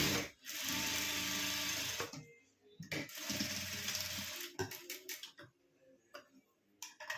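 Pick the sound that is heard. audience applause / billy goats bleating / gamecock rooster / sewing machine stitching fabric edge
sewing machine stitching fabric edge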